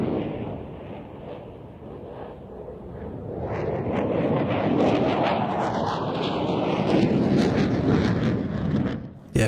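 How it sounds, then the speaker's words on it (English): An F-16 and a JF-17 fighter jet flying aerobatic manoeuvres over an air show, a broad distant jet roar swelling louder and rougher over several seconds amid wind buffeting, then cutting off abruptly. "The F-16 completing that Cuban 8, and both aircraft heading out to the left-hand side for the next manoeuvre."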